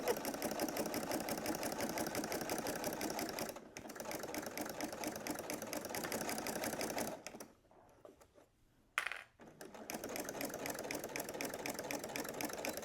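A sewing machine stitches a strap on a diaper pouch with a rapid, steady mechanical whirr, pausing briefly and stopping near the end before resuming, close and fairly quiet with no talking.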